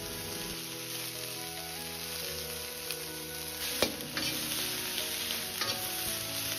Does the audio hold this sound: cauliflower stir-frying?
yes